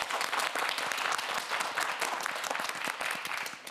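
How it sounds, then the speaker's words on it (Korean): Studio audience on a TV quiz show gives a burst of dense, steady applause lasting a few seconds, with no talk over it. "우리 큰 박수 보내주고"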